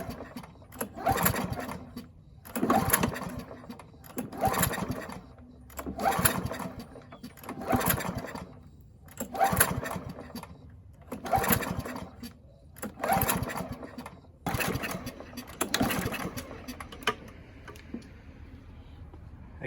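A Husqvarna lawn mower engine being pull-started repeatedly, about ten rhythmic bursts of cranking and sputtering spaced roughly two seconds apart, each rising and falling without catching into a steady run.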